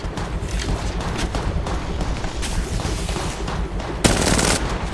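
Dense, continuous gunfire from Apex Legends during a ranked match, loud and sustained throughout with bursts blending together and a sharper, louder volley near the end; no talking.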